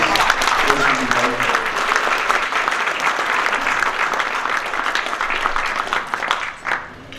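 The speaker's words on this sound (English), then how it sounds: "So can everyone give him a round of applause?" Audience at a Catholic community beer-and-talk evening claps in a sustained, dense round of applause that holds steady for several seconds before tapering off near the end, with faint voices mixed under it.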